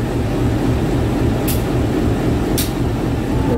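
A vintage locomotive on the Kaligung train idles at the station with a loud, steady low rumble, broken by two brief sharp clacks about a second apart.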